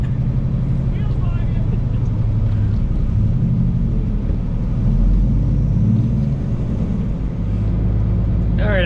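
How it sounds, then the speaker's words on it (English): A semi truck idles and creeps while backing a trailer into a corner spot, a steady low diesel rumble filling the whole stretch with slight swells in engine load. "I backed that one down in the corner there."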